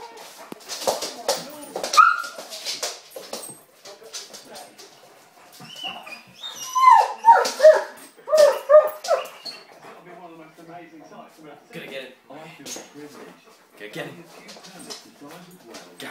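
A dog whimpers, yips and barks while playing, with high whiny cries and short bursts of barking close by, mixed in with people talking throughout.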